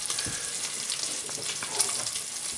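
Bacon sizzles steadily in a pan as the base for clam chowder, a continuous close crackling hiss with small pops and no talking.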